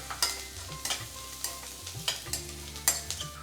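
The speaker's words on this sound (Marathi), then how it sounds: "आता यामध्ये घालायची आहे कोथिंबीर हिंग हळद याला मिक्स करायचे" Coriander, asafoetida and turmeric are stirred into a pan for Maharashtrian kande pohe: intermittent spoon scrapes and taps over a faint sizzle, with soft music in the background.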